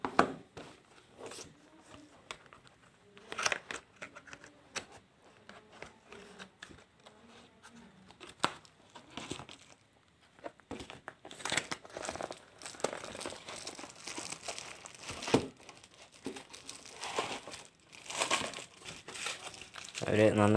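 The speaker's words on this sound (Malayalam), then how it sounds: "നമുക്കപ്പോൾ ഇത് അൺബോക്സ് ചെയ്യാം." Crinkling plastic and cardboard packaging as a Casio fx-82MS scientific calculator is unboxed, close rustles and crackles coming in bursts, busier and denser in the second half, with a person speaking between the handling sounds.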